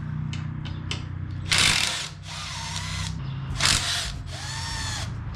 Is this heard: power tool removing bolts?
yes